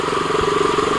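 A KTM motorcycle, stopped on a flooded road, idles close by with a steady, loud, even engine rumble and no voices.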